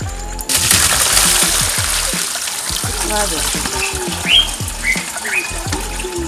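Cut plantain pieces washed by hand in water, with sloshing and splashing throughout, a few brief squeaky scrapes and a steady background hum.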